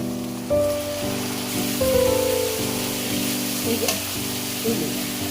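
Mushroom biryani masala with peas fries and gets stirred, a steady close sizzle under a tonal background hum with a few soft utensil scrapes.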